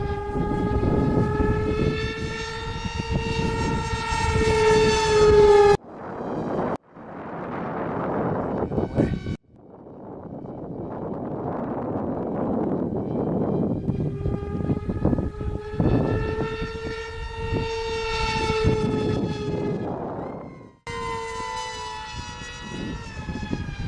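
RC twin-jet model plane with pusher propellers running at half throttle: a loud, steady whine with strong harmonic tones, interrupted by a few brief drops and cut-outs, then resuming at full level.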